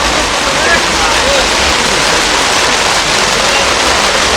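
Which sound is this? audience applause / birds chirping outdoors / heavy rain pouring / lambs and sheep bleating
heavy rain pouring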